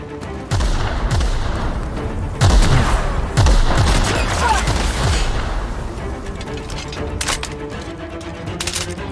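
Gunfire in The Outer Worlds: sustained volleys of sci-fi weapon shots and booming impacts during a firefight, loud and dense through most of the stretch before thinning out, with faint game voices beneath.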